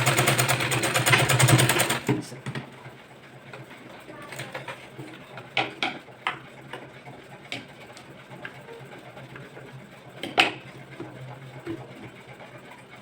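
A sewing machine stitches a boat neck blouse with a long stitch setting, giving a rapid, buzzing run for about two seconds, followed by quieter handling sounds and scattered taps.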